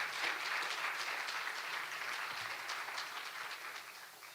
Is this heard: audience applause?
yes